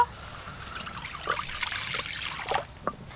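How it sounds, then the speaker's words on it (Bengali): Water trickling and pouring into a wok of thick crab curry gravy, a soft splashing stream with small surges and a brief final splash near the end. "কড়াতে জল দিয়ে দেব"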